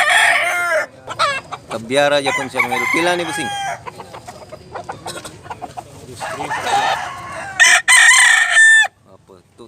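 Gamecock roosters at a Cebu poultry market crow loudly and nearby, with long repeated calls and some clucking, while someone talks briefly between the crows.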